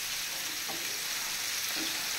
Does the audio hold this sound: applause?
no